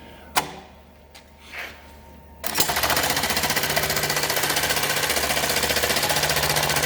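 A Consew CM1900HS industrial sewing machine with pneumatic tension sews with heavy 207 thread. A few knocks and clunks come first, then a steady, loud, rapid mechanical chatter runs on without a break.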